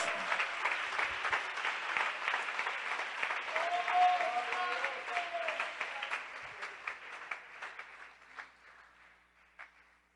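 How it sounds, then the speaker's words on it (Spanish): A church congregation applauds during a sermon, a dense wash of clapping that stays full for several seconds and then thins into scattered claps fading out. "Dele ese aplauso a ese Dios."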